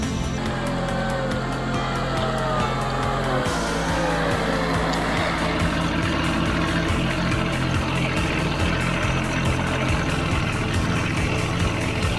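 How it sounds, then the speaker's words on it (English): A 420-horsepower Kirovets tractor engine roars heavily and continuously in snow and ice, a loud, steady low rumble with a slight shift in tone partway through. "The 420 horsepower engine roared, pushing each wave height around the body of the car"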